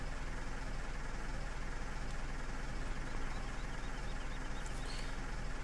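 A tractor engine idles steadily in a farming video game while manure is being spread, a low continuous rumble that holds evenly throughout with no talk over it.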